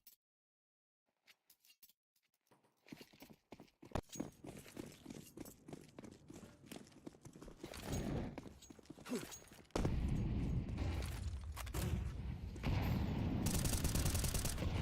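Rapid bursts of rifle fire from a competitive esports shooter match, crackling in dense volleys that build louder toward the end, mixed with game sounds and no clear talk.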